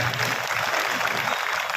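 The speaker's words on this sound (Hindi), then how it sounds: "इसके लिए एक बार जोरदार तालियां।" A crowd at an outdoor mahapanchayat rally in Betul answers with loud, dense applause, a brief burst of many hands clapping together close and strong.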